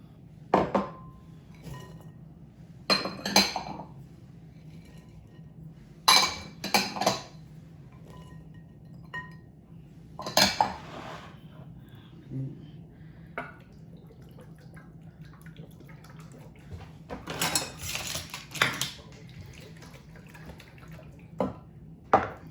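Herb stuffing mix with fruit and nuts for turkey is stirred together in a bowl, giving intermittent bursts of clinking and scraping between quieter pauses, with no speech.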